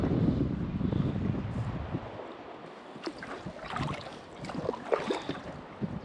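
A canoe being paddled across a pond outdoors, with soft water swishes and faint paddle strokes under steady wind noise against the microphone.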